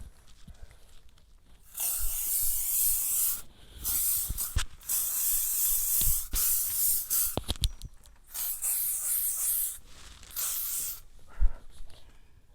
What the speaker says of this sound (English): For the hair, I'm gonna use a hairspray.